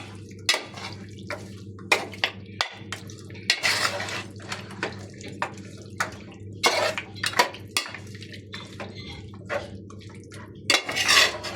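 Mutton curry being stirred in a pot, a ladle scraping and clinking against the metal in repeated short strokes with some wet sloshing, close and fairly clear, no talking.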